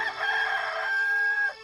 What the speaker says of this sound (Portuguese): Imediatamente cantou o galo.